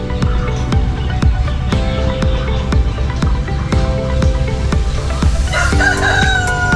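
Chickens cluck loudly and steadily at a Philippine poultry yard, with a rooster crowing near the end over the busy clucking. A sharp tapping or dripping repeats throughout.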